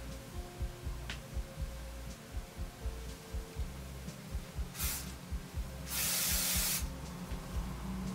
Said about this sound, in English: So now that I have set that into place with the freeze hold hairspray